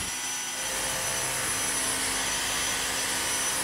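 A cordless vacuum cleaner sucks very fine dust off a hard floor with a loud, steady, close-up whine and rushing airflow that holds unchanged throughout.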